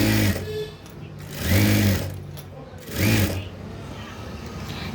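A sewing machine stitches down an overlocked dress seam in two steady whirring bursts of about a second each, close and loud, separated by pauses with quiet background noise.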